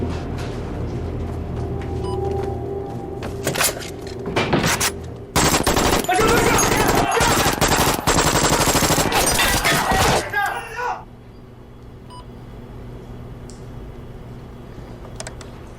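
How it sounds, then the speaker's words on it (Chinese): Gunfire erupts in a 1948-set Chinese spy drama scene: a dense, loud volley of rapid shots lasting several seconds, preceded by a few isolated cracks and followed by quieter room tone. "说了不要开枪，为什么开枪？"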